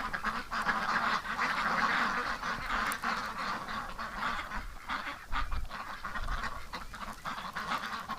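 Muscovy ducks in an outdoor pen in winter snow give dense, overlapping honks and calls, loud and close, with continuous flock noise throughout.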